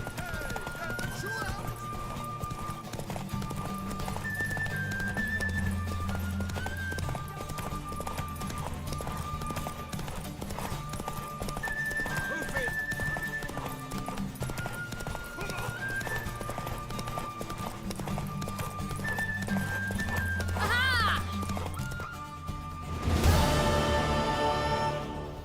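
Horse hooves clip-clop steadily in The Witcher 3, with tonal game music and a neigh near the end, while characters talk over the scene.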